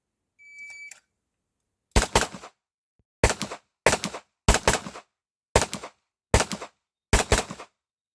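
Handgun shots fired at IPSC targets in Production Division training: a short electronic beep, then seven loud, sharp reports in quick, slightly uneven succession, some in close pairs, each ringing briefly, with no talking.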